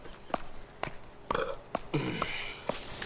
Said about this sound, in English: I feel like I'm gonna burp